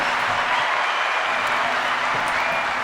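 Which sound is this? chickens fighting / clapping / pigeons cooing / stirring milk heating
clapping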